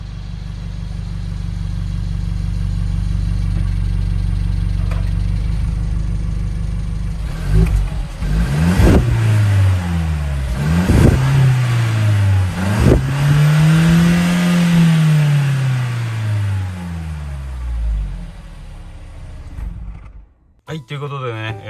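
A Mercedes-Benz car engine idles with a low rumble, then revs in several rising and falling surges as it is driven into a garage, loud and close, ending abruptly.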